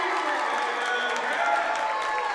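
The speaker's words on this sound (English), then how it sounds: "the crowd's erupting" Gym crowd at a high school basketball game roaring and clapping after a made shot at the end of the first quarter, sustained loud cheering filling the whole moment.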